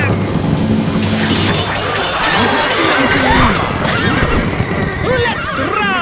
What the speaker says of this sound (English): Charge! Our horses are ready.